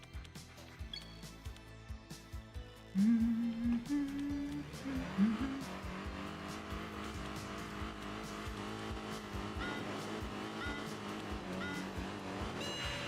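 Race cars launching at the start of a race in Enthusia Professional Racing, engines rising from a low drone into a loud revving surge with a brief tire squeal, then a sustained roar of accelerating cars.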